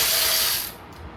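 A power tool works to remove parts from a pressure washer, a loud burst of mechanical ratcheting with a hissing spray-like edge that cuts off partway and drops to quieter rattling.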